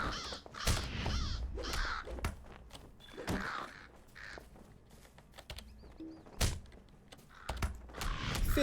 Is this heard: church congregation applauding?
no